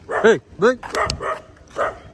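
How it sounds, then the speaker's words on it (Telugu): A dog on a roadside gives a string of sharp, yelping barks close by, about five bursts with short gaps between them. "ఏంట్రా బాబు ఈ కుక్కలు, దారిపోడు నస ఇవి"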